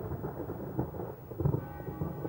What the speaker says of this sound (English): I had just picked up my brush when the great storm began